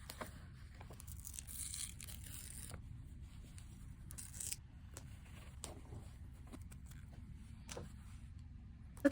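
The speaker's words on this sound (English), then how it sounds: "you can just kind of nudge the little edge of the tweezer in there and pull it up" A paper sticker is peeled up with the edge of tweezers, producing quiet, brief tearing and crinkling bursts scattered over a low background hum.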